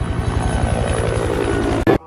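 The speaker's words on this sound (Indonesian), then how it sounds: "Sebuah helikopter terbang mengarah kepada Rovach." A helicopter flies overhead in a film scene, its blades beating in a fast, steady chop under a loud engine whine that holds constant before cutting off sharply near the end.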